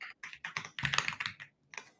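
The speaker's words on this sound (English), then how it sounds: "I'm just typing my commit messages." Quick, uneven keystrokes on a computer keyboard, typed in short bursts with brief pauses, close and clear with no talking.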